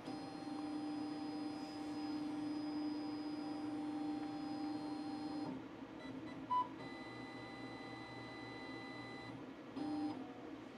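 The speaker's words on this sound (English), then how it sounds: "I'm going to autofocus." A Thunder Laser Bolt laser cutter runs its autofocus in a steady mechanical hum with tonal whine, a brief beep near the middle and a short louder burst toward the end, with no talking.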